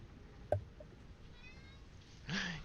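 A pet cat named Faye meows for treats indoors, a short meow early on and a longer, louder meow near the end over a quiet room background.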